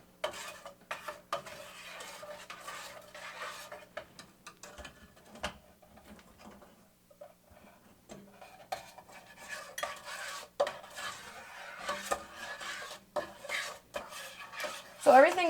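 A spoon stirs and scrapes melting peanut butter fudge mixture around a pot, giving irregular clinks and scrapes against the metal, close and fairly quiet, with pauses between strokes.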